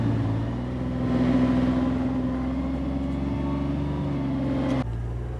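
A 2022 Nissan Titan XD truck engine rumbles low and steady as it crawls off-road over rough ground, swelling slightly midway and dropping off sharply near the end.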